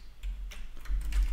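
Someone typing a web address on a computer keyboard: a few quick, close, quiet key clicks in an uneven rhythm.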